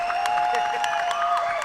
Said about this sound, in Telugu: కనబడని వాళ్ళ కోసం మనం ఎక్కువ క్లాప్స్ కొట్టాలి